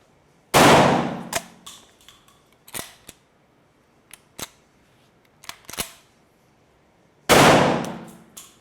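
Two loud, sharp blasts from a Citadel Bosshog semiauto shotgun firing magnum shells, one near the start and one near the end, with scattered clicks and clanks of the action being worked in between.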